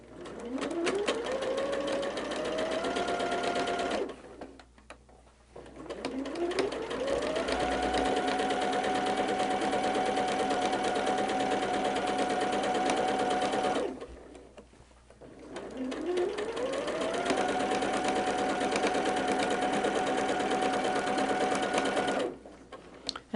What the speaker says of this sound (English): And we're just going to stitch that.